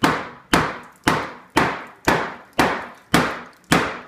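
A hammer strikes an old countertop eight times at an even, steady pace, each blow loud and sharp with a short ringing decay.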